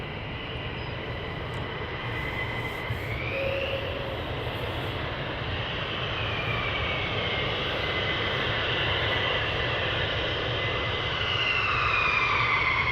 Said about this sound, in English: they're taxiing over this side